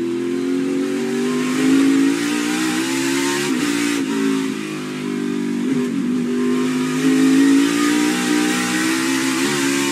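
Chase Elliott's NASCAR race car engine lapping a racetrack, a loud, continuous V8 drone rising and falling in pitch through repeated throttle lifts and accelerations over ten seconds, heard alone without voices.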